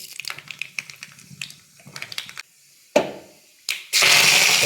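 Mustard seeds hit hot coconut oil in a pan for sambar tempering. After a few sparse taps and clatters, a sudden loud, continuous sizzling splutter breaks out close up.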